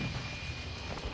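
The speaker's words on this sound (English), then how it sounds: "my teammate's got a VTOL up" A VTOL aircraft flies overhead in Call of Duty Modern Warfare 2 as a steady, loud jet-engine roar with a thin whine, heard alone and without voices for about a second.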